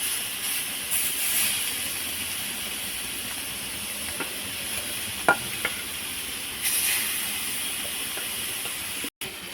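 Fish sizzling in oil on a flat tava pan, a steady soft hiss with occasional faint clicks and spatters, moderately quiet and with no voices.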